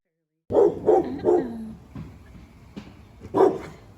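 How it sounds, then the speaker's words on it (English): A dog barks sharply three times in quick succession, then gives a softer yip and a final loud bark, close and clear with no talk over it. "dogs are naturally inclined to bark at stuff"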